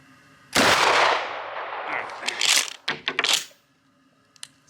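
A gun fires a lead slug during deer season prep, one loud close blast with a long rumbling tail, followed by mechanical clicks and clunks as the firearm is handled.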